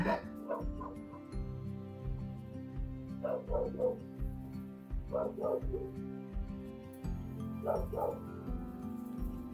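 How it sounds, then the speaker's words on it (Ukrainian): A dog barks repeatedly in short bursts at a distance, with yips between, over a low steady background hum. "знову на когось гавкає"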